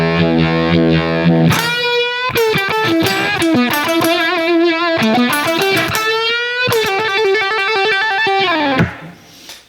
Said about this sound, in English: we have the Univibe pedal. It gives it that kind of rotary speaker kind of effect.